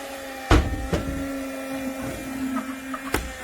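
Kärcher WV 2 Plus N battery window vacuum runs with a steady, moderate electric hum, broken by a few sharp knocks and clicks from handling against the glass, with no talk.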